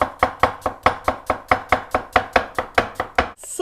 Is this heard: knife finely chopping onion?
yes